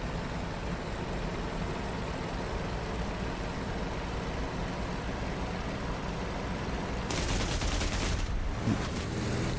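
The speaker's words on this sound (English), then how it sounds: "Someone shooting at me there." Gunfire in an F-14 Tomcat flight-sim close air support mission rips out as a dense burst near the end, over a steady roaring engine drone that fills the whole stretch.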